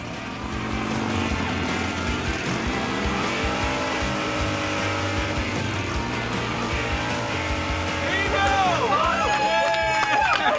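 Motorcycle engine revving at an indoor motorcycle show in Abbotsford, a loud sustained roar with rising pitch sweeps near the end, under crowd noise and voices.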